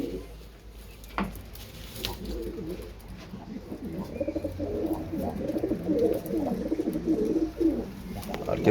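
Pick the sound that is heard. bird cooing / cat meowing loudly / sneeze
bird cooing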